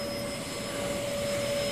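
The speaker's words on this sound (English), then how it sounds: "Of course, not over the vacuum cleaner." A vacuum cleaner runs steadily nearby, a loud continuous whine with a sharp sustained tone over a broad airy hiss, unbroken for the whole stretch.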